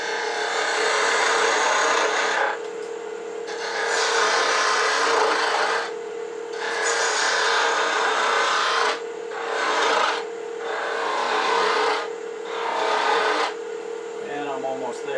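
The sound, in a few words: spindle gouge shaping wooden acorn on lathe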